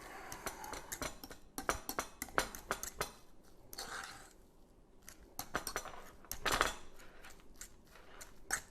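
Emu egg yolk filling for deviled eggs being mixed in a bowl, a sequence of sharp metallic clinks and taps from a utensil against the bowl, irregular and fairly close, with no talking.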